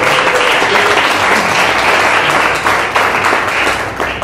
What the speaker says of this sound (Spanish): no vale más que muchos aplausos para agradecerles esto que hacen con nosotros